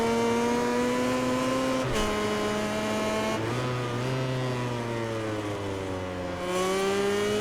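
A KTM racing motorcycle in MotoGP 19 revving through the gears, loud engine tones climbing in pitch, dropping sharply at each shift, then rising again, with no voices.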